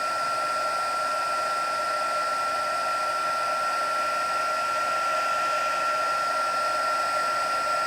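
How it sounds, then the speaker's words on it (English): An embossing heat tool blowing hot air to melt embossing powder on a paper card: a steady, loud whirring hum with a high whine, unbroken and close, with no voices. "You do want to be careful not to touch the tip of the heat tool to your project"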